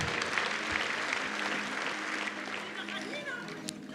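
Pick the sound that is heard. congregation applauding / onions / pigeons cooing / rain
congregation applauding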